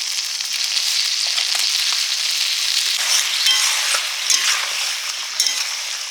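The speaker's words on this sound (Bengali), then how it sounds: "মশলা কষানো হয়ে গেছে" Masala paste with a splash of water frying loudly in a pan for a silver carp and potato fish curry, a bright, dense, continuous sizzle heard close up with faint stirring crackles.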